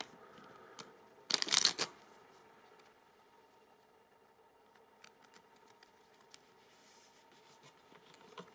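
Tarot cards being shuffled by hand, a short burst of riffling and flicking near the start, then faint occasional card taps and rustles in a quiet room.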